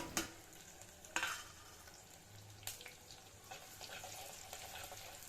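Garlic and small shallots fry in oil in a pan with a soft, constant crackling sizzle, close by, punctuated by a few sharp clicks of stirring.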